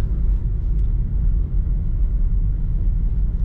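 A 2016 Honda HR-V 1.8 idles quietly, a steady low rumble with a soft even hum and no revving, heard close and alone.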